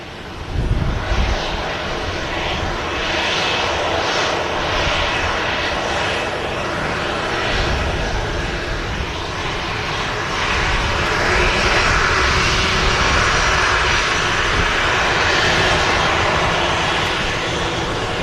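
Aircraft engines roar continuously at Manchester Airport, a loud, sustained broadband rumble that swells slightly in the second half, with no talking.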